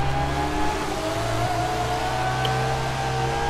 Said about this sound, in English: I really love the tune of this engine.